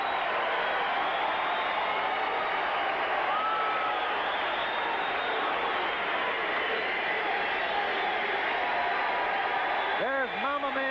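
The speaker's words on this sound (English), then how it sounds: "The crowd acknowledging Ray Boom Boom Mancini." A boxing crowd of about 3,000 partisan fans in Warren, Ohio cheers for Ray Mancini after his fight, a loud, continuous roar throughout, with a commentator talking over it.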